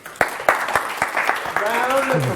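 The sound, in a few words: audience round of applause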